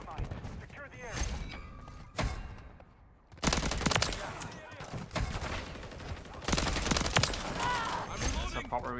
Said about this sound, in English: It's a proper SMG this.